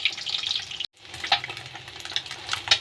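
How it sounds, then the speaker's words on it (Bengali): Eggs frying in a pan, a crackly hiss with sputtering pops that cuts out briefly, then resumes close and moderately loud. "ডিমগুলো আমি ভাজতে আরম্ভ করেছি।"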